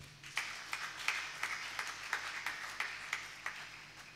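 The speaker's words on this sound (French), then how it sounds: "Acclamons ce témoignage." A congregation claps together in steady rhythmic beats at a prayer and fasting service, moderately distant, with no voices over it.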